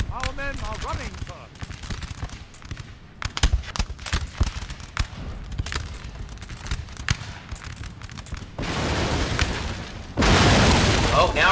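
Artillery shelling in Napoleonic: Total War 3 multiplayer battle around a house, with repeated booming impacts and crackling musket fire in irregular bursts, ending in heavy sustained roaring blasts, with a voice talking over parts of it.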